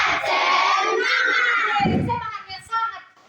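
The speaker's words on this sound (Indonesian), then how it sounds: "Ayo kita sama-sama tepuk semangat" Schoolchildren in a classroom at an Indonesian Islamic primary school doing a spirit clapping chant, a loud group of young voices shouting together with clapping, ending in a few scattered shouts and a low thump.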